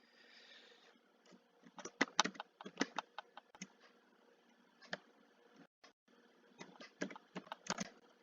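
Coordinates are typed on a computer keyboard for AutoCAD, heard as quiet, close key clicks in short irregular bursts separated by pauses.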